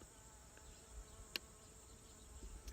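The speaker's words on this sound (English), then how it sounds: "It's a bumblebee." A bumblebee buzzes in flight outdoors near a pig pen, a faint, thin hum hovering at a distance with a brief louder pass in the middle, no voices.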